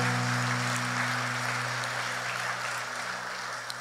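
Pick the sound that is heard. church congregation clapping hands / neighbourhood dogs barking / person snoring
church congregation clapping hands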